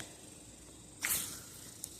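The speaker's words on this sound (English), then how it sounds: "the hot water out of the hose first." Hot water bursts out of a garden hose in a sudden, short hissing spray midway, fading quickly against quiet outdoor background.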